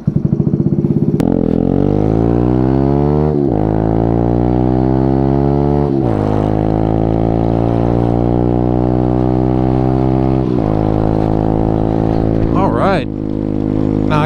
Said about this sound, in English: This one's like one of those no-name exhausts, and it just sounds like, it literally sounds like a constant queef coming out of the bike.